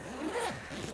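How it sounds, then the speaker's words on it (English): Zipper on a Lectric XP e-bike rack bag pulled open in one smooth, close ripping run lasting about a second, loud and alone with no talk. "if you unzip this strap or this zipper here"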